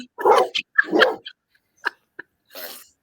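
A dog barks after coyotes begin howling, giving a few sharp, close barks and yips in short bursts separated by brief pauses.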